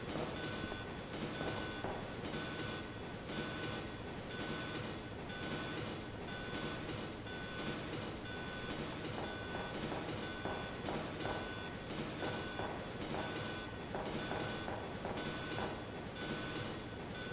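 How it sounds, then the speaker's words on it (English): A train rolling along on its own in the unreleased Resident Evil 1.5 video game, a steady dense rumble with rhythmic rail clatter and a faint high whine, continuous and loud for the whole stretch with no talking. "The train's now moving on its own."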